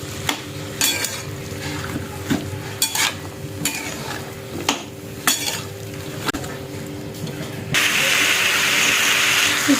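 A spatula stirs and tosses Bhogi vegetable bhaji in a pan, scraping in a repeated uneven rhythm over a steady low sizzle that swells into a louder, continuous hiss toward the end.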